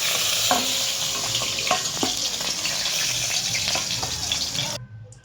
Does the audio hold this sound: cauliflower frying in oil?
yes